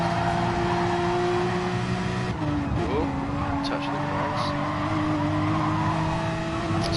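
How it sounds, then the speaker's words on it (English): A Porsche race car runs at speed on a racetrack during a 2.4-hour Le Mans event. Its engine gives a steady high whine with a brief shift in pitch partway through, and a voice talks over it. "That Porsche is mighty fast."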